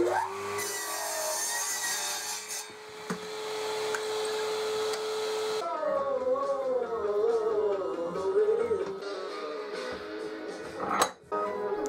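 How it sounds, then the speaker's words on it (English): Mitre saw cutting a leftover poplar board for a birdhouse base, a steady motor whine that shifts into a wavering, rougher tone as the blade passes through the wood, with a sharp knock near the end. "then cut it on the mitre saw"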